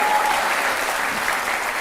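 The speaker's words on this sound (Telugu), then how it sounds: "అందరూ అతని కోసం చప్పట్లు కొట్టాల్సిందే." A studio audience at a televised courtroom-style interview show claps in a dense, steady burst of applause that stays loud and even throughout the short stretch.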